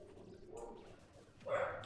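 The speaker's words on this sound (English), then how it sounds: "She'll bark at it. Like, every little noise just gets her going." A dog gives a short bark and a whimpery yip over faint background noise, heard briefly and close by near the end.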